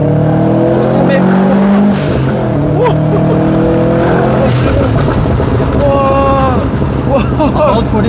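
A Stage 3 tuned turbocharged car with a new engine revs and accelerates hard in repeated pulls as the turbo warms up, the engine note close and loud and sweeping up and down, with people talking over it.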